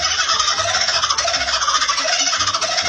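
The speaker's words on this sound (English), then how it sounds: "The kookaburra. It's a kingfisher bird found in Australia that sounds like a guy trying way too hard to laugh at a cute girl's jokes." Kookaburra call sped up to double speed, a loud, continuous high chattering warble with rapid trilled pulses, close and uninterrupted.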